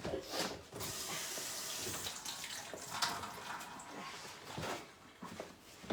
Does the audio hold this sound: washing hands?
yes